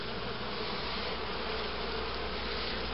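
Honeybees buzzing steadily during a hive inspection while a colony is checked and prepared for winter, a close, continuous, even drone with no other sounds.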